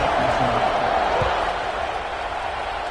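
A large stadium crowd at a Michigan versus Penn State football game makes a dense, steady roar of cheering and chatter, heard at a distance throughout, with a faint thump partway through.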